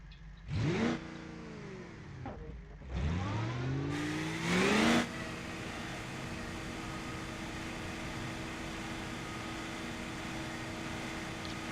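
A car engine in the game BeamNG.drive revs up in rising sweeps, dropping in pitch between gear shifts, then holds a steady, moderately loud drone.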